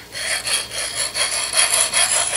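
A knife blade with a flat grind is drawn repeatedly across a sharpening surface, making rhythmic close-up rasping strokes about every third of a second with no voices.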